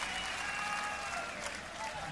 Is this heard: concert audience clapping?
yes